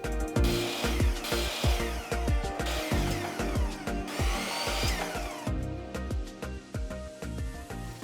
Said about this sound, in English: So we need to cut a bunch of spacers that are going to fit this pattern bit in between.